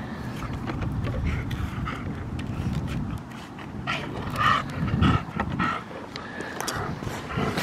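Dog playing with a big stick in a park at sunset, panting and snuffling up close with scuffling and knocking sounds, plus a few brief yelps.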